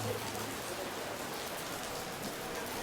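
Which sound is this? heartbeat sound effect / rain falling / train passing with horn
rain falling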